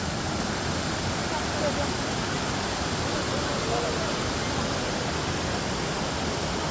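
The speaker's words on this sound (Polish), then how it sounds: "leci woda pięknie" A waterfall pours into a pool, a dense, steady roar of falling water filling the whole moment at an even level, with no breaks or distinct splashes.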